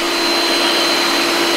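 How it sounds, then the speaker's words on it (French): A Yeedi Vac 2 Pro robot vacuum cleaner runs with a loud, steady motor whir and a constant high whine, with no pauses and no voices. "Et là, il passe dessous tranquillement."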